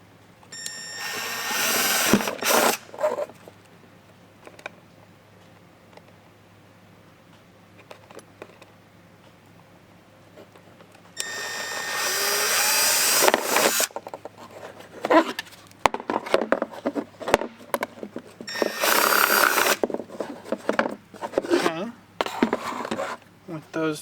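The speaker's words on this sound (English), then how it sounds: "take our 1/4-inch drill bit, drill through our marked holes" Power drill boring holes with a 1/4-inch bit for mud flap mounting on a 2023 Toyota GR Corolla, three bursts of high whining drilling separated by pauses, with clicks and handling noise between.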